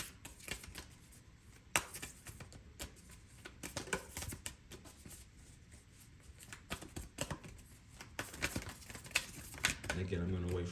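Tarot cards are shuffled by hand close up, giving soft, crisp riffling clicks and flutters in quick bursts, with a person talking at times.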